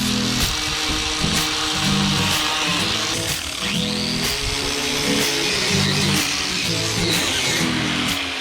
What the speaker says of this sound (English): I'm gonna grind this down, get the rust out of there